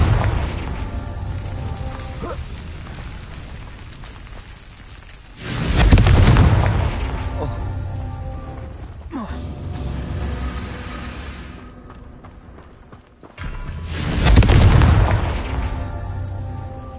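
Confringo spell explosions in Hogwarts Legacy, two heavy booming blasts several seconds apart, each swelling loud and then fading into a low rumble over steady background ambience.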